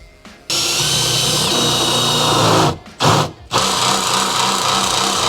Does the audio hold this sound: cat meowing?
no